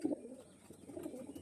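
A pair of white domestic pigeons giving a short, low cooing call, close and quiet, followed by softer murmuring coos.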